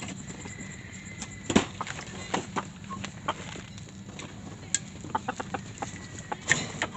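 Chickens on a farm at night cluck softly and intermittently against a steady background hum, with a few sharper clucks standing out among faint ones.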